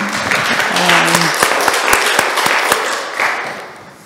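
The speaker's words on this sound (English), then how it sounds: "you clapped too soon." An audience at a lecture on life after residential school claps in a loud, close burst, with a few sharp individual claps standing out before the applause fades toward the end; a voice is briefly heard at the start.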